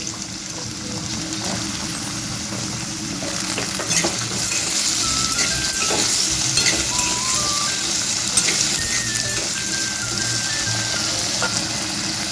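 Diced potatoes frying in hot mustard oil in a wok, a steady close sizzle with occasional stirring scrapes and no talk.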